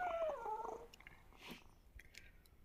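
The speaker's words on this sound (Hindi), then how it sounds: "टॉयलेट में बिल्ली क्या कर रही है वैसे भी" A cat in a toilet in the video game Undawn gives a short, wavering meow at the start, followed by a few faint clicks and soft background noise.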